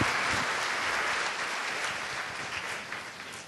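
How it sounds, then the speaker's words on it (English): An audience at a seminar on family centres in Norway stands and applauds, giving a dense, even wash of clapping that carries on steadily and fades slightly toward the end. "why don't we stand up and give our applause"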